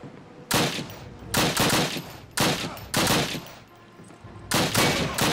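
Gunfire in a Call of Duty game: about five sharp bursts of automatic fire, loud and close, separated by short pauses with a low background hum between them.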